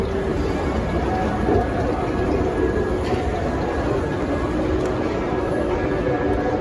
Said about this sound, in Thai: รถไฟ